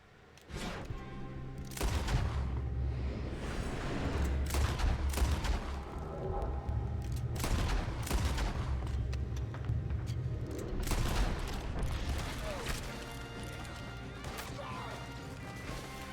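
Gunfire in the video game Red Dead Redemption 2, a string of sharp cracking shots and crashes over a steady low rumble, loud and close, with occasional faint voices.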